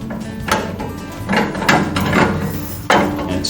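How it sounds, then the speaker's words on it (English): A table saw rip fence is slid onto the steel front rod, giving a series of hollow metal knocks and scraping slides, several sharp clunks spaced irregularly, close and fairly loud with no speech. "It slides onto this steel rod on the front of the saw."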